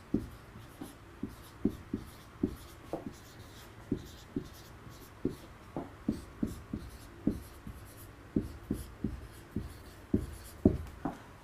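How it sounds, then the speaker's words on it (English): An expression is written out by hand, giving a run of quick, light strokes and taps in irregular bursts, close and fairly quiet, with no talking over it. "Let's write that."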